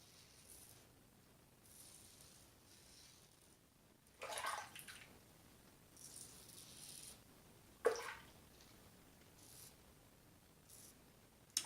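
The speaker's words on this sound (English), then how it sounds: "then I'll rinse it in the sink" A razor rinsed under running water in a sink during a wet shave, two short splashy bursts of water against a quiet background, close by and with no speech.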